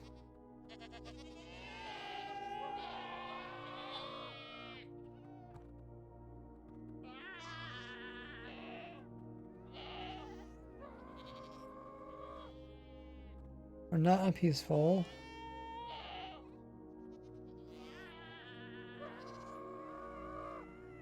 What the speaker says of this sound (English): I think they recorded real goats making noises